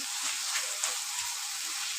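Chicken with spices simmering on a low to medium flame, a steady close hiss of bubbling and sizzling with faint soft pops throughout.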